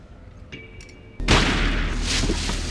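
A quiet stretch with faint thin tones, then a sudden loud gunshot blast that leaves a heavy, rumbling roar continuing to the end.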